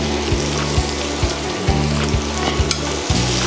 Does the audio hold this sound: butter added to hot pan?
yes